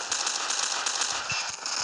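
Rapid bursts of game explosions and gunfire crackle in a dense, continuous barrage, with sharper booms popping out near the end.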